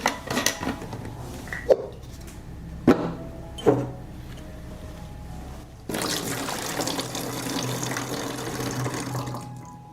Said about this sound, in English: I will pour 200 milliliters of milk into the bottle.